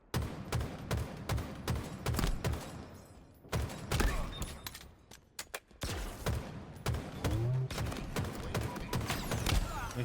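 Dense bursts of rapid gunfire crackle through a competitive tactical shooter league semifinal match, steady volleys with short gaps and sharp single cracks, heard mid-level amid in-game mechanical clatter.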